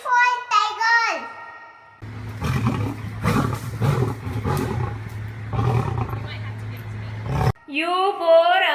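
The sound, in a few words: tiger roaring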